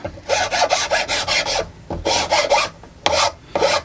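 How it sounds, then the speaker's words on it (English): A metal file rasps back and forth across bamboo fly rod cane, about nine close, brisk strokes in irregular rhythm with short pauses between them. "We can clean it up a little bit with a file."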